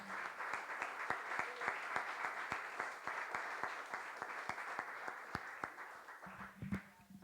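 Steady applause from a church congregation fills the room, dense clapping with sharp individual claps standing out, continuing throughout at a fairly even level.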